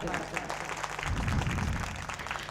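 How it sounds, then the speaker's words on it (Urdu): The mushaira audience breaks into applause after being urged on, a moderate burst of clapping that swells midway, with an announcer's voice partly mixed in. "کم سے کم ان کے لیے زوردار تالیوں سے"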